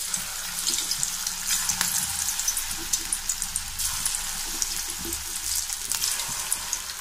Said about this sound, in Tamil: கடாயில் எண்ணெய் விட்டுருக்க, எண்ணெய் நல்லா சூடாயிடுச்சு. இப்போ இதில் இந்த உருண்டைகளை சேர்த்துக்கலாம்.